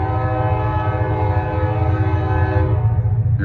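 GE and EMD locomotives totalling 6,700 horsepower notch up to pull a train uphill, a loud, steady, deep diesel roar with layered engine tones holding throughout.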